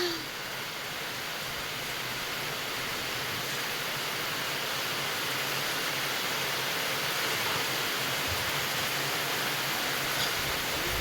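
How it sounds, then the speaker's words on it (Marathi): Rain falls on a house terrace in a light shower. It makes a steady, even hiss of water with no pauses, and it stays fairly soft throughout the clip. "पाणी पडतंय बघा तिथे"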